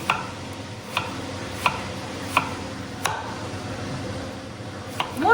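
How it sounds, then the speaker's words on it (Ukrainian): A knife slices a red onion into half-rings on a board in sharp, evenly spaced taps, about one per second, with a quiet room hum behind. "У мене сьогодні це червона цибулька. Я нарізаю такими півкільцями."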